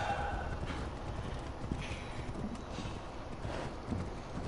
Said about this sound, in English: I'm gonna steal this horse